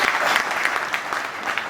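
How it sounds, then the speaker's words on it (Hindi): An audience at a farmers' gathering at Rani Lakshmi Bai agricultural university in Jhansi claps in dense, sustained applause from many hands, heard alone without speech. "अरे तालियां बजाना शुरू करो भाई,"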